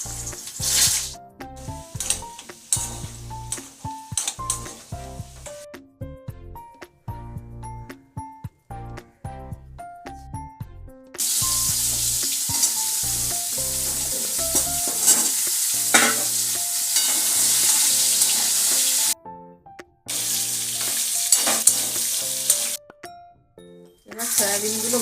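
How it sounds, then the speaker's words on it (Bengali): Potatoes frying in oil in a pan: a steady, loud sizzle sets in partway through and runs to the end with brief breaks, over background music that plays throughout. "এবার আমি আলুগুলোকে ভেজে নেব"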